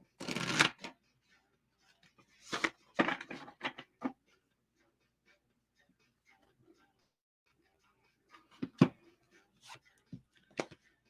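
Tarot cards shuffled for a reading, heard as a few short, papery riffles and flicks close to the microphone, separated by quiet stretches.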